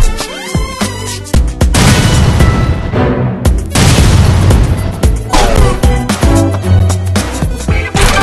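Gunfire and bomb explosions from the video game Bombing Busters pound almost without pause, a loud, dense barrage of booms and bursts with only a brief lull midway.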